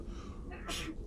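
One short, fairly close sneeze bursts out over a steady hum of room noise and faint talk, during a tabletop role-playing game session.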